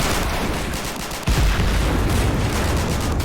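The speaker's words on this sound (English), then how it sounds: "German ammo cooking off in secondary explosions from the destroyed vehicles." Dense crackling bursts of gunfire-like explosions, loud and continuous, with a heavier boom about a third of the way through: ammunition cooking off in destroyed German vehicles in the video game Men of War: Assault Squad 2.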